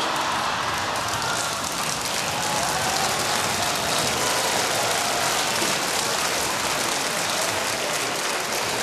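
An audience clapping, a dense, sustained wash of applause from many hands, loud and even throughout, with no voices standing out.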